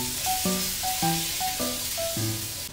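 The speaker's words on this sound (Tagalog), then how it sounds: "magigisa tayo dito ng bawang" Garlic sautéing in butter in a pan, a steady sizzle running throughout with no one talking, broken up by a few short tonal clinks from the pan.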